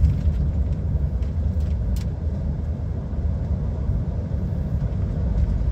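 Steady low road rumble from inside a heavy goods lorry on a narrow rural Scottish road as a van comes through alongside, a continuous close drone with a few faint clicks and no talk.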